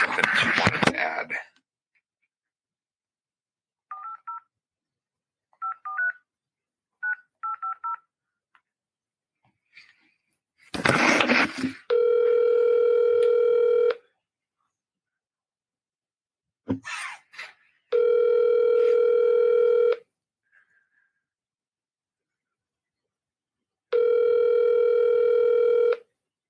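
A phone call is placed: brief bursts of keypad touch-tones, then a steady dial-type ringback tone sounding in three long, evenly spaced blocks with silence between, and short stretches of talk near the start and middle.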